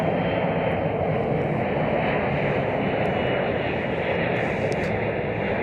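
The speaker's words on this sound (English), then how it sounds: "We'll wait till this aircraft passes by." A large airliner passes by at Chicago O'Hare airport, its engines a steady, loud, broadband roar that stays close and sustained throughout with no talk over it.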